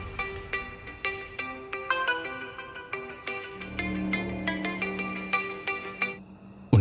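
A mobile phone ringtone plays alone as a bright, repeating melodic tune of quick tonal notes, moderately loud and close, running for several seconds before cutting off abruptly.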